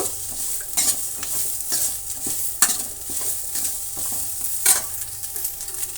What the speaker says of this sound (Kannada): ಒಂದು ನಿಮಿಷ ಇಲ್ಲಾಂದರೆ ಒಂದೂವರೆ ನಿಮಿಷ ಅಷ್ಟು ಫ್ರೈ ಮಾಡ್ಕೊಳ್ಳೋಣ